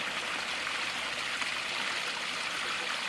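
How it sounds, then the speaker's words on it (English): Water pours steadily over a backyard pond waterfall fed by an 8,500 gallon-per-hour pump, a constant close rushing and splashing wash with no pauses. "As you can see, the waterfall,"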